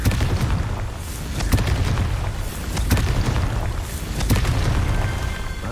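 Confringo fire-spell blasts in the game Hogwarts Legacy land as several separate booming explosions, each with a sharp crack, over a continuous rumbling battle background.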